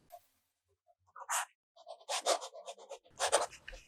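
A fine-nib fountain pen scratches across steno notebook paper in short, close bursts of faint writing strokes separated by brief pauses.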